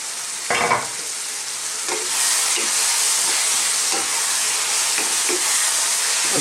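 Mushrooms for a chicken curry steam and sizzle in a pan with a steady, close hiss, broken by a few soft stirring clicks.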